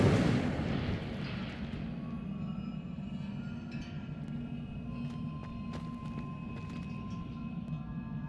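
In Hogwarts Legacy, the Incendio fire spell bursts out with a loud, roaring whoosh at the start that settles into a sustained rumbling flame, alone without speech.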